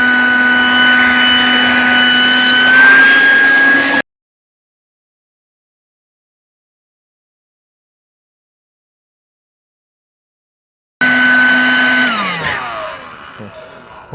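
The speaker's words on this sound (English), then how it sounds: "So now let's get back into vacuuming." A Car Tech Wagan Tech wet and dry shop vacuum whines loudly, cuts out into silence, then starts again and winds down with a falling pitch.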